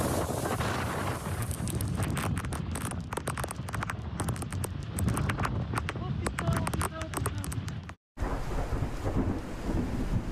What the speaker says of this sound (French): Des trompes d'eau, accompagnées de rafales de vent spectaculaires,